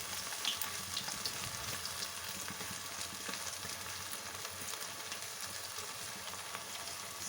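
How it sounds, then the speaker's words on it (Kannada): Banana slices deep-fry in hot oil over a low flame for homemade banana chips, giving a steady, close sizzle and crackle that runs unbroken with no voices. "ಎಷ್ಟು ಬೇಯೋಕ್ಕಾಗುತ್ತೆ ಅದರಲ್ಲಿ ಅಷ್ಟೂ ಬೇಯಿಸ್ಕೊಳ್ಳಿ"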